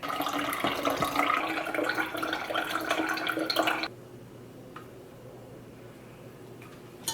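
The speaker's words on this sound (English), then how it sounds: "I'm just gonna top off the remainder with water" A steady stream of water pours and splashes into cold brew coffee in a KitchenAid cold brew maker carafe for about four seconds, then stops abruptly, leaving a few faint drips in near silence.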